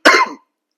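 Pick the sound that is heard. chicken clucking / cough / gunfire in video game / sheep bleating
cough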